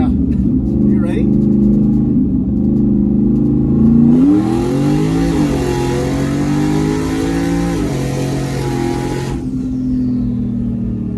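A single-turbo Mustang built from eBay parts pulls hard under boost, its engine note rising steadily in pitch through a sustained wide-open run, loud and close from inside the car, with voices talking over it.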